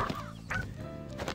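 A chicken character in the video game Ultimate Chicken Horse gives a few quick, close clucking squawks in a short burst.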